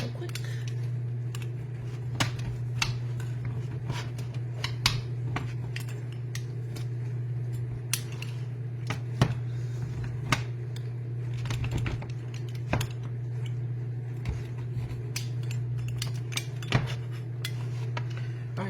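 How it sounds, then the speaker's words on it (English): A pizza cutter rolls through a classic pepperoni pizza, giving repeated crisp clicks and scrapes at an irregular pace over a steady low hum, fairly close and faint, with no talking. "so here's the pizza cutter"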